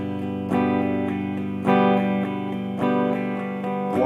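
An electric guitar with heavy distortion rings out full chords, each struck about once a second and left to sustain between hits, with no talking.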